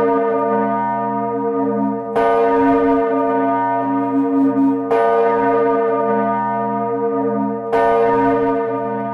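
Church bells of the collegiate church of Romont, Switzerland, ring out loudly in a steady sequence, with fresh strikes at regular intervals and a rich, lingering hum between them; no voices.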